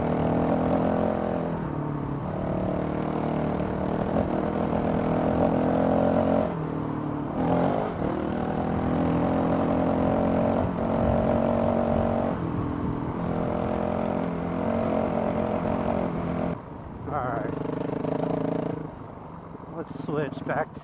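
Honda CRF 450 RL dirt bike engine running with a Taipan AIM ECU in race mode, a steady loud motor drone that winds up across the ride, with a brief dip near the end and a voice talking over it.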